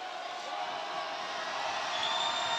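Home crowd murmur at Mandeville during a boys high school basketball playoff free throw, a steady, fairly loud wash of many voices filling the gym with no distinct cheer.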